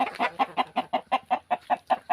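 A fighting rooster gives a quick, even series of about a dozen close, loud clucks in a steady rhythm.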